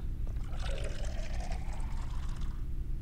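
Water runs steadily from a kitchen sink tap in a horror video game, a continuous close pouring splash over a low hum with no talk.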